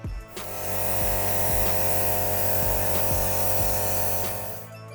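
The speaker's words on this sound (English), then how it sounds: "I want to apply some brown airbrush color on it to make it look more like wood." An airbrush sprays brown food color onto a cake board to give it a wood look, a steady loud compressor-driven buzz and hiss running almost continuously with a faint regular pulse, no voices.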